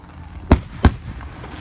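Fireworks burst in two sharp, loud bangs about a third of a second apart, close by, with a fainter crackle afterward over low outdoor background noise.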